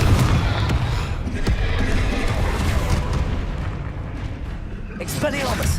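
A Confringo blasting curse goes off in Hogwarts Legacy on PS5, with sharp booming bursts over a loud, continuous rumbling battle din.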